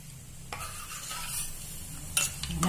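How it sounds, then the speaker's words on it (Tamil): Cashews frying in a pan, steady close sizzling broken by sharp metallic scrapes and stirring clinks of a spoon against the pan. "நல்லா ஒரு பொன்னிறமா பொரியும்."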